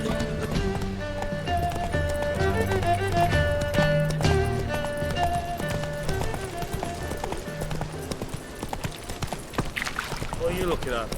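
Roach the horse gallops in Witcher 3, with a fast, rhythmic clatter of hooves that stays close and loud, overlaid by game music. Someone speaks over the hoofbeats, and a brief whinny comes near the end.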